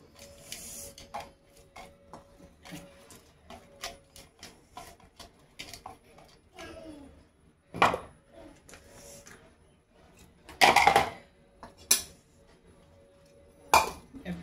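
Tomato and onion salad being mixed in a bowl, heard as soft scraping and stirring with intermittent louder clinks of a spoon against the bowl, close and without talk.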